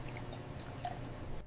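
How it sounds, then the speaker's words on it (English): Water trickles slowly into a bowl of white polymer powder taken from a diaper, a soft, close pour with faint drips under a low background hum and no talk. "Then slowly pour water in and stir evenly."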